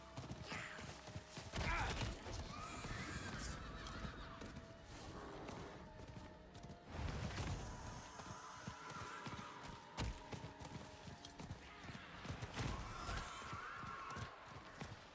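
A horse in Diablo 4 gallops along, its hooves thudding in a rapid, uneven rhythm under game sounds, with a few louder surges.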